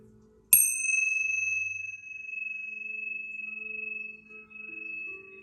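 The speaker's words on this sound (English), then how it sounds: "I'm just going to use the tincture bells to cleanse any residue energy from the last reading" Tincture bells struck once, a bright metallic ring with a sharp attack that hangs in a long, pure sustained tone, slowly fading over several seconds in a quiet room.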